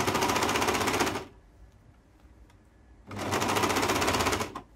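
Sewing machine stitching the first seam of a summer top, two loud sustained whirring runs separated by a quiet pause.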